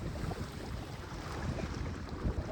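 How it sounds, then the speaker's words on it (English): Gusting wind of 12 to 18 knots roars steadily across the microphone while a solo sailboat runs on a flat lake, with a dense, continuous rush and faint water wash beneath. "12 knots of true wind, but it's gusting to 18, 19"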